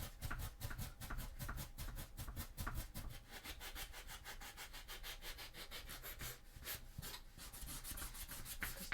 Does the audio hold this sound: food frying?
no